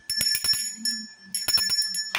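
A small hand bell rung in repeated quick bursts, a run of sharp metallic strikes, a pause, then another cluster, fairly close and clear with no talking.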